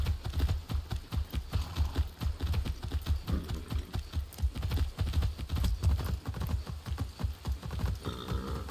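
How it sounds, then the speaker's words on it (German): Galloping horse hooves in the video game Far Cry 6 pound in a fast, continuous rhythm, loud and close, with no voices over them. "1000 Meter mit dem Pferdchen."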